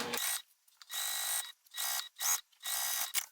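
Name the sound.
sewing machine stitching the bottom seam of a bag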